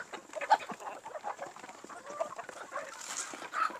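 Chickens cluck in a steady, busy chorus from a flock of about 1,000 birds close by, with scattered higher calls breaking through now and then.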